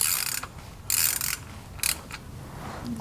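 Ratchet with an 11mm socket loosens the transmission drain plug on a 2010-2017 Chevrolet Equinox or GMC Terrain, a few short bursts of close clicking with pauses between.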